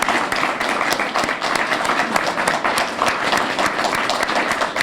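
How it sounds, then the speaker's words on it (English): Audience applause after a call to thank contributors at a journal readings event, a dense, steady wash of many hands clapping that holds at an even level throughout with no talk. "let's all give a round of applause for all those who have contributed to this."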